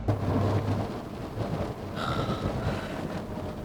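Sudden rain with rumbling thunder around a Porsche 911 Carrera 4S Cabriolet on the road, a steady broadband wash of rain and thunder that holds loud for several seconds.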